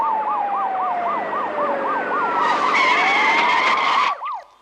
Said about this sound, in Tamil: நம்ம வண்டிக்கு முன்னால போற போலீஸ் ஜீப்ல இருந்து வர்ற சத்தம் தான் சார்